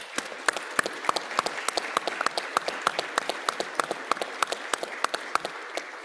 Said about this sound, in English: give everybody a round of applause if you were involved.